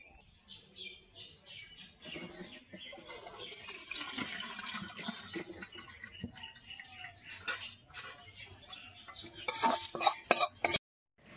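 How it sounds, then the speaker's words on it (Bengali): Water runs and splashes as curdled chhana (cottage cheese) is drained and rinsed in a kitchen, with intermittent clinks and clatters of a vessel and utensils, quiet at first and louder in bursts near the end. "জল দিয়ে ছানাটাকে ভালো করে ধুয়ে নেব।"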